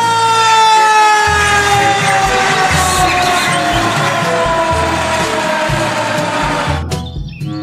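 A toy fire truck's loud electronic siren wails with a descending tone over a rhythmic buzzing pattern, close and continuous before cutting off abruptly.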